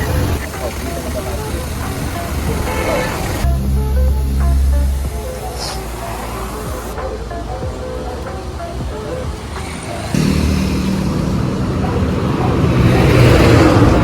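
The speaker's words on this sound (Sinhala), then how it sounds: "ඔව් අපි ආවේ ටියුබ් එකට හුලං ගහන්න" An air pump fills the inner tube of a tuk-tuk tyre, a steady, loud hiss with a rumbling machine drone that shifts in level partway through, while people talk over it.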